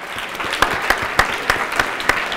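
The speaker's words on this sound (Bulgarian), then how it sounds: "Аплодисменти за Виктория Аладжем." Applause at the closing of a QA conference for a prize winner, with scattered hand claps standing out in an uneven rhythm over a softer crowd of clapping.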